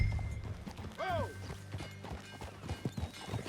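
A horse's hooves clop in the video game Red Dead Redemption 2, a quick irregular run of thuds under game music and a brief whinny-like call, with voices talking over part of it.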